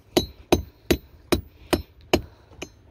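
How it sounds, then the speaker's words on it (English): Metal chisel hammered against a rotten bolt, seven sharp ringing strikes in a steady rhythm, close and loud with no talk. "Chiseling a bolt."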